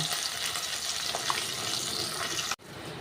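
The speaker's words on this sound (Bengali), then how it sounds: "তেলাপিয়া মাছগুলোকে একটা একটা করে ভেজে নিই" Tilapia fish frying in oil in a kadai, a dense steady crackling sizzle heard close up, which cuts off abruptly near the end.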